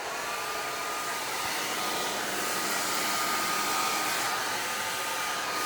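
Hair dryer blow drying hair during a silk press, a continuous close airy roar with a faint steady whine, no voices over it.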